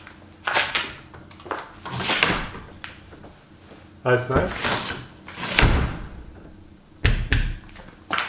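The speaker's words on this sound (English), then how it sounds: "Finally, a door that shuts and latches." An interior door on a renovated pole barn, just fitted with a strike plate, swings shut and latches with several sharp thumps and clicks, close by, with someone speaking briefly between the impacts.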